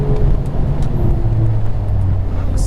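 A BMW M2 brakes hard on the Laguna Seca racetrack, heard from inside as a loud, steady engine and road roar whose engine tone drops as the car slows.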